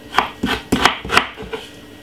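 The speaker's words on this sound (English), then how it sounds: "Cut up my ginger a little bit small, yeah, very, very small, tiny bit." A knife chops a piece of ginger on a cutting board in about six sharp, fairly loud thuds at an uneven, quick rhythm, with no talking.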